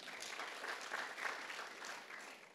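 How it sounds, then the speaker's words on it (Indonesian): A church congregation applauds during a sermon, a steady, even wash of clapping from many hands that holds for a couple of seconds, moderately distant and soft. "Tepuk tangan untuk kita."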